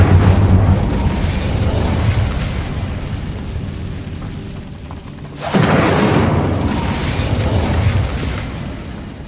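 Incendio fire spell bursting in the video game Hogwarts Legacy, a loud rumbling blast with a sudden second eruption midway, layered over a dense roaring game soundscape.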